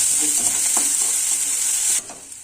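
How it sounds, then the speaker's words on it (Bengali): Chopped chilli and garlic sizzle in hot oil with a steady hiss and a few light stirring scrapes, then the sizzle drops abruptly quieter near the end. "লঙ্কা কুচি রসুন কুচি একটু হালকা করে একটু ভাজবে এটাকে অল্প একটু হালকা করে"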